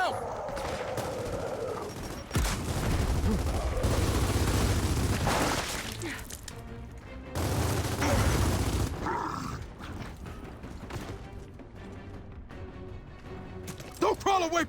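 Frag grenade blasts and bursts of gunfire from the video game Gears of War 4, with loud booming explosions and rapid shots between quieter stretches, while a voice talks over the action.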